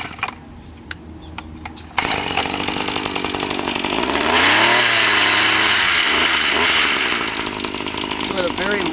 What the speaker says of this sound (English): take a quick look at its actual effectiveness of cutting just a couple of cattails down